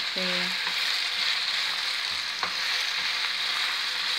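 Onions fry in a mix of olive and regular oil, giving a steady, close sizzle throughout, with a brief tonal clink near the start and a soft utensil tap partway through.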